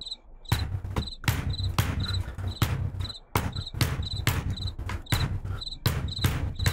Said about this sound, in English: I heard the little crickets, and I was like, let me make a beat real quick